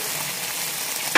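Chopped onion hits hot oil in a kawali, a steady bright sizzle that hisses loudly throughout, with a brief clatter of stirring at the very end.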